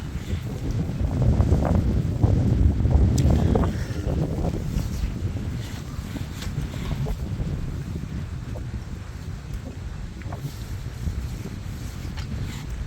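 Strong storm wind roars and buffets the microphone in loud, gusty surges, heaviest early on and then settling into a steady rushing blow.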